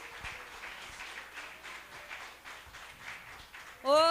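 Faint applause from a church service congregation ripples on in uneven waves, fairly distant, before a louder voice cuts in at the very end.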